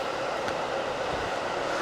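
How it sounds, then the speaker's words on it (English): A Chicago Metra commuter train rumbles past behind a soccer field, a steady, loud rolling roar with no break across the clip. "Now we get the loud Metra again passing us behind us."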